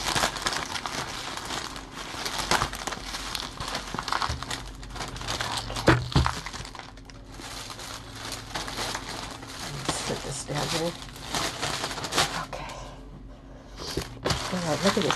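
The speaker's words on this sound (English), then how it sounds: "Let me open this one, get this out of plastic." A gift is pulled out of crinkly plastic packaging, with repeated close crumpling and rustling bursts throughout while someone talks over the handling.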